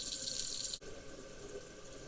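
Tap water running into a pot for blanching cauliflower florets, a steady close hiss with a brief break partway through, no talk.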